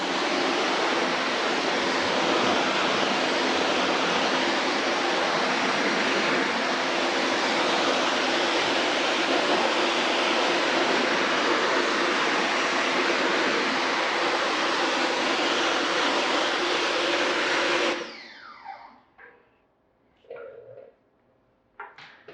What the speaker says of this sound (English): So first thing, pressure wash this tire off thoroughly.